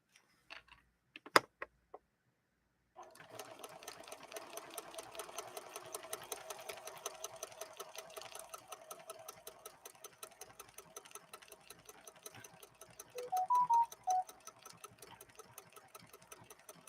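A PFAFF 7530 sewing machine stitches a decorative pattern, a fast rapid mechanical chatter running steadily at close range after a few brief clicks, with short electronic beeps near the end.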